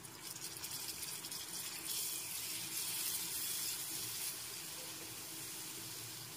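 A small splash of water goes into a pan of ground spices frying with onions for a Bengali mrigal carp curry, giving a steady, soft rushing hiss that lasts several seconds.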